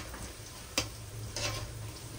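Faint stirring of food cooking in a pot, with a low steady simmer and two sharp scraping strokes of a utensil against the pot's side.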